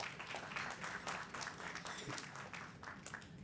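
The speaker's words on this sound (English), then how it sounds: "Give yourselves a round of applause for being here." Applause from an audience at a panel discussion event, a steady dense patter of many hands clapping, fairly faint and distant throughout.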